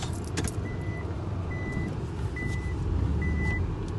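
A 2005 Mitsubishi Delica Space Gear Active Field Edition with a lift kit backs up, sounding four evenly spaced reversing beeps over a low engine rumble and faint clicks.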